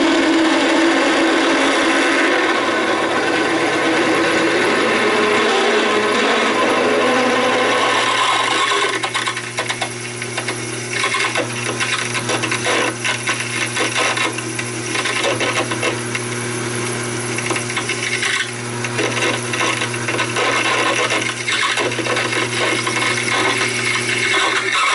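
A Taig lathe drilling a steel bar gives a steady, continuous motor hum with a rasping cutting noise, loud and close, running at constant speed with no talk.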